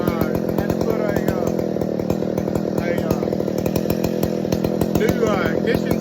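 A restored mid-1980s Stihl 090 chainsaw, refitted with electronic ignition, a new carburetor and new fuel lines, runs loud and close with a steady, throbbing engine drone that holds for the whole stretch.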